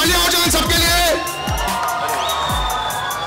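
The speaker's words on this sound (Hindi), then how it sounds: "तालियां हो जाओ इन सबके लिए" Stage event crowd cheering and whooping for a line of bodybuilders, loud and close with shouts and babble, while voices and sweeping musical tones run over the noise; claps are not clearly separable.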